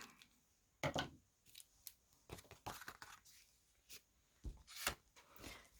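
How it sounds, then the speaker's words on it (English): Several crisp scissor snips cutting paper, irregular bursts with short pauses between, close and fairly quiet, no talking. "now I'm going to use my regular scissors and cut whatever is overlap here."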